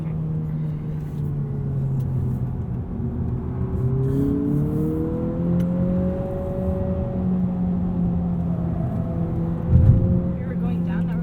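A 2020 Honda Civic Si in sport mode hums steadily from inside the cabin on a winding mountain road, engine pitch slowly rising and falling with the throttle, while people talk over it throughout.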